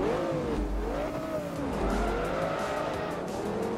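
An Audi R8 racing in the video game Forza Motorsport 3, its engine revving up and down in steady sweeps with tire squeal and skidding, loud and close throughout.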